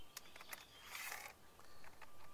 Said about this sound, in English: slide 4 of the supplied bolts into these channels, 2 in each of the channels